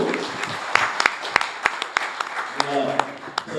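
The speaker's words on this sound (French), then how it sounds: "je peux vous demander de l'applaudir, il est là, Docteur Sacramento." A conference audience claps steadily for a few seconds, with dense crisp hand claps and a few sharper individual claps near the front.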